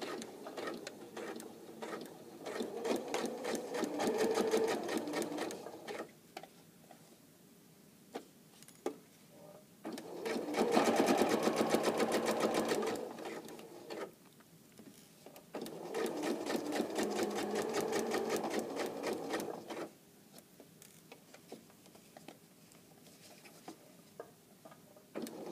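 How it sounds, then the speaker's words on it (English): Sewing machine stitching through basted fabric in three steady whirring runs of a few seconds each, separated by quieter pauses, close and clear. "And then you're just going to sew like this."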